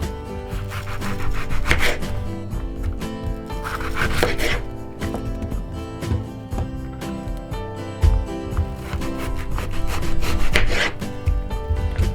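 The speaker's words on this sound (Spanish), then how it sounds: "Vamos a cortar la cebolla" Kitchen knife slicing an onion thinly into strips on a board, a run of quick, close scraping cuts with rhythmic tapping, steady and fairly loud with no talking.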